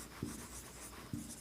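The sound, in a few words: writing on paper or board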